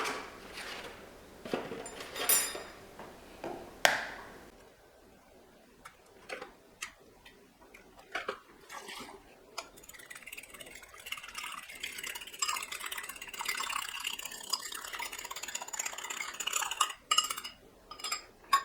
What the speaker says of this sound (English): Next, take 2 eggs and whisk in a bowl.